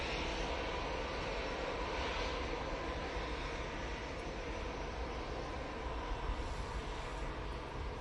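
A Boeing 787 Dreamliner at Manchester Airport produces a steady, even jet engine rumble that holds without change for several seconds, with no voices.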